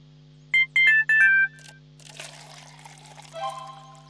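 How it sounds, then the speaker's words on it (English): A Roblox text message notification plays as a short run of bright chiming tones, loud and clear, followed by softer mixed game sounds and a faint, steady background hum. "somebody just texted me"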